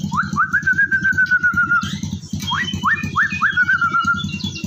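A caged canary sings clear rising whistled phrases in short repeated bursts, close and loud, with a busy background of other birds and shop noise.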